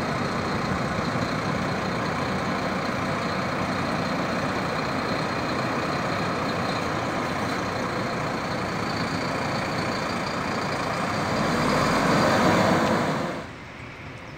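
Heavy diesel engine of a Volvo B12R intercity bus rumbling steadily at an interstate bus station in Brasília, a continuous loud idling drone that swells briefly near the end before dropping off.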